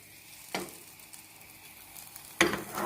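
Cookie dough cooking in a frying pan with a little ghee, giving a quiet, steady sizzle broken by two sharper scraping or tapping sounds, the second louder, with no talking.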